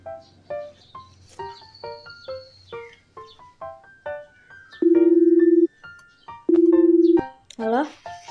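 An outgoing phone call: two steady ringback tones, each lasting under a second, sound in a room between bursts of chirpy plucked music, followed by a short rising chime near the end.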